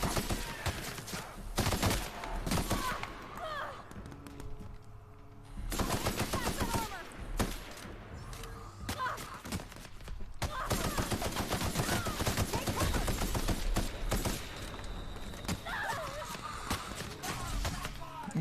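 Video game gunfire, rapid bursts of shots coming in waves with brief lulls, fairly loud, while a player talks over the action.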